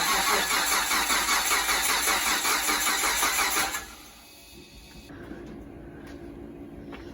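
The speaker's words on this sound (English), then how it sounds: "I'm going to unplug that, give it a few cranks, and see if we can get this thing to have some oil pressure" Gen 3 Mitsubishi Montero engine cranked over on the starter to build oil pressure, a loud rhythmic whirring chug for about four seconds that then stops, leaving quiet background.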